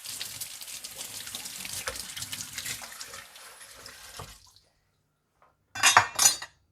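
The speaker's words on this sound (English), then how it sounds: "Let me throw this away and let me wash my knife." Running tap water splashes as a kitchen knife is washed in a sink for several seconds, then stops, followed by a short burst of water and clinking near the end.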